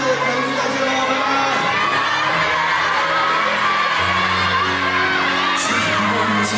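Fans at a fansign event cheer, whoop and clap loudly to see off the guests, a dense continuous crowd roar with shouting over music.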